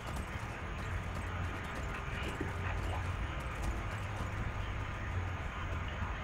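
Rhythmic clip-clop of horses galloping in Skyrim, steady and fairly close, with a brief whinny and faint background game noise.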